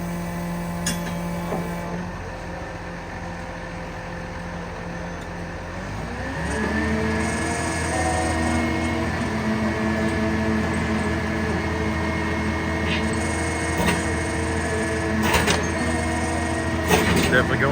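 A heavy drilling rig drives an auger down into rocky ground, its engine note climbing and settling into a steady loud drone with grinding undertones, broken by sharper knocks near the end.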